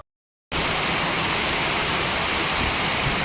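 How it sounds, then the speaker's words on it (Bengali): Rain falling outside, a steady dense hiss of drops starting after a brief silence and continuing evenly, moderately loud with no talk. "বাইরে হচ্ছে বৃষ্টি"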